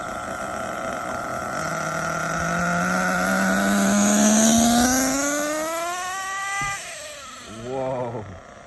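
An HPI Trophy Truggy RC car with a Hong Nor Force 32 5.2cc nitro engine screams at full throttle, its whine climbing steadily in pitch, then cutting off abruptly before a brief second rising burst.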